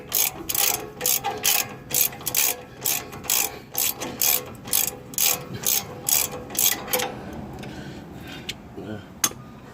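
A ratchet works loose the brake caliper bolts on a 2003 Lexus GX470, its quick clicking bursts repeating in a regular rhythm up close before trailing off into a few scattered clicks.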